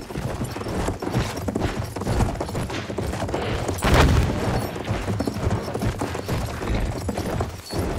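Enemy cavalry horses gallop in a war video game, with steady clip-clop hoofbeats over battle noise and a heavy boom near the middle, continuous and fairly loud throughout.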